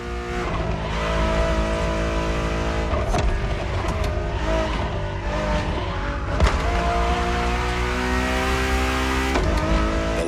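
A Ferrari in The Crew Motorfest revs hard and holds a loud, rising engine wail through repeated gear changes, with tire squeals and skids breaking in, no talk.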